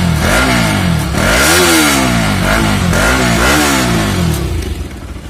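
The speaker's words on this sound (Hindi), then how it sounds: "इसमें एग्जॉस्ट की साउंड बहुत प्यारी साउंड है" A Bajaj Pulsar RS 200 sport motorcycle engine revs hard and close, its throaty exhaust rising and falling in repeated surges over a steady rumbling idle.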